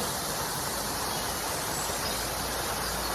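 A small forest waterfall spilling into a stream, heard as a steady, even hiss of falling water close by, with no other sounds.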